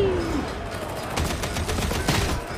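Gunfire in Warhammer 40,000: Darktide rattles as a dense, loud stream of rapid shots over a heavy, rumbling game backdrop.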